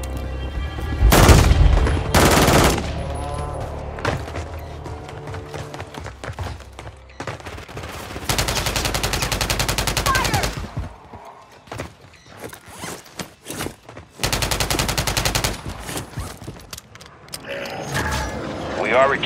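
Gunfire in Call of Duty MW3 squad gameplay comes in several loud, sustained automatic bursts of a few seconds each, separated by quieter stretches with game sounds and radio-style voice chatter.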